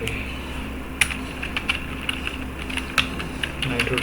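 A computer keyboard is typed on rapidly during a Nitro Type speed drill: quick, irregular clicking keystrokes with occasional sharper taps, close up over a constant low background hum.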